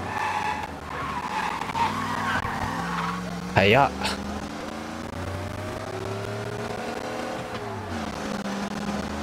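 A car in Mafia Definitive Edition drives with a steady engine drone, then skids in a sharp, loud tire squeal around the middle, followed by shifting engine pitch as it carries on; a brief spoken greeting sits over the game sounds.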